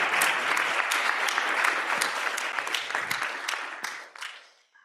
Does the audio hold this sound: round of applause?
yes